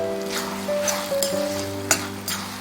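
Ghee sizzling in pumpkin halwa in an iron kadai, a steady frying hiss with occasional sharp pops and a faint stirring scrape over a low hum.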